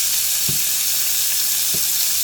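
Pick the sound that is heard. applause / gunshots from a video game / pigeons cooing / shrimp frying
shrimp frying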